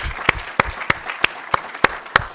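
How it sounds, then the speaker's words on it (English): Applause at an arts awards ceremony in 2024, heard as a short run of evenly spaced, sharp claps about three per second, fairly loud and close, with no talking over it. "round of applause for Taylor"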